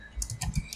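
Keyboard typing during JavaScript coding, a few quick close keystrokes in an irregular cluster, fairly soft, with no voice present.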